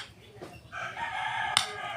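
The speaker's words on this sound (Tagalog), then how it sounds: "Nataan nga manok" A rooster crows once, fairly close, with a long drawn-out call rising over a quiet outdoor background.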